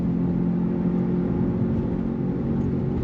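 Road traffic at Kentucky Speedway, heard as a steady distant engine hum and vehicle rumble, with no distinct pass-by peaks and no voices.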